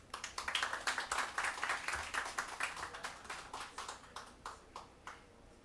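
A modest audience at a climate cooperation conference applauds to welcome a water company CEO, a thin patter of distinct hand claps that gradually thins out and fades.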